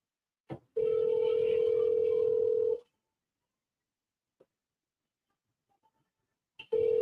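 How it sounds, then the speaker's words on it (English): A phone handset gives a short click and then a long steady tone, followed by silence with a faint tap and another brief tone at the end. "like I said, I'm hand dialing."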